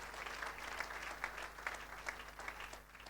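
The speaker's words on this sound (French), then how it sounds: "Maboko makasi pona nkolo." A church congregation claps for the Lord during a sermon, a soft, fairly distant patter of applause that holds steady over a low background rumble.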